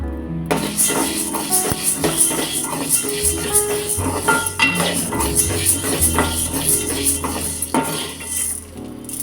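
Lentils and grains dry-roasting in a kadai, a metal spoon scraping and clinking against the pan in a busy, continuous rhythm, close and loud, with a constant high whine behind it and no talking.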